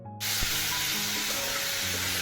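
Leafy greens hit hot oil with tempering spices in a home kitchen, setting off a sudden, loud, steady sizzle that continues evenly after a brief quiet moment.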